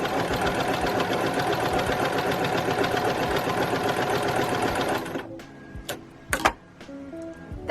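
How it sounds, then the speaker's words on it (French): A sewing machine runs a zigzag stitch along a fabric edge to overcast it, a loud steady rapid whirr for about five seconds, then stops, leaving a few clicks and light handling noises. "vous prenez juste le point en zigzag et vous cousez sur tout le long"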